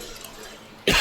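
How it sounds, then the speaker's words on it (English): A single sharp cough bursts out at the very end, loud and close, after a near-silent stretch. "Got a cough."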